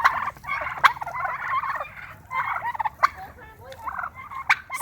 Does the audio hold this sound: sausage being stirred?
no